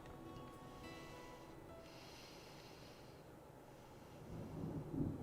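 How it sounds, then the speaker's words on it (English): Distant thunder from the Deadly Premonition 2 video game rolls as a faint, low, continuous rumble that swells slightly near the end, with no talking over it. "Big black cumulonimbus clouds are in the sky, and that sound. Thunder snow is coming."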